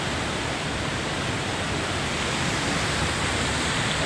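The Ubut waterfall roars as a steady, dense, full-bodied rush of falling water, loud and unbroken from start to finish with no voices.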